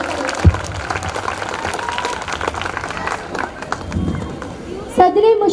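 An audience applauds a poet at a student mushaira held by an Urdu upper primary school and Barrister Yusuf Sharif High School. The applause is steady and crowded, with voices mixed in, and it swells again near the end.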